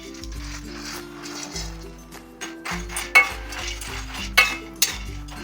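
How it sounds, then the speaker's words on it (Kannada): Makhana (fox nuts) frying in a pan while being stirred, with soft sizzling, utensil scrapes and a few sharp clinks against the pan over background music. "ಮಖಾನನ ಫ್ರೈ ಮಾಡ್ಕೊಳ್ಳೋಣ"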